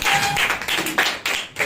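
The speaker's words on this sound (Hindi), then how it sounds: "जोरदार ताली बजाइए।" Loud clapping from a congregation at a Wednesday church service, coming in several uneven bursts of claps close by, without talking.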